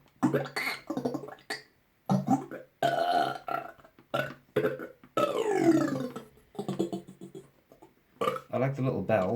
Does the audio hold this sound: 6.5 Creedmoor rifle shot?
no